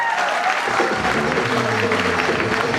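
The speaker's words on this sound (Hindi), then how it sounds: "अपने लिए एक बार जोरदार तालियां बजा दो यार।" A packed auditorium audience at a ChampCash seminar in Delhi applauding loudly, a dense roar of clapping with tonal murmurs or music underneath, swelling quickly and staying strong throughout.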